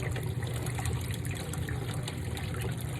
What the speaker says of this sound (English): Start the siphon, there it goes.